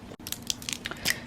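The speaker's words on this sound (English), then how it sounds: "If you hear any chewing in the background, it's because my dog is eating." A dog eating food nearby makes a series of crunchy bites and chews, irregular crisp crunches repeating over about a second, fairly close and clear.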